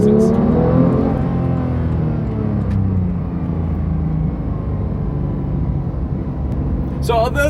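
Porsche 991.2 GT3 with manual gearbox driving in Massachusetts traffic, a continuous near engine drone with gently shifting pitch inside the cabin, and a short burst of speech near the end.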